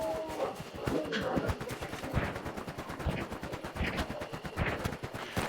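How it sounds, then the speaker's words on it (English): Gunfire in the video game Hunt: Showdown: a dense stream of sharp, rapid shots, some in quick bursts, cracking through the area at moderate distance without pause for several seconds. "as you can tell by the gunshots in the area"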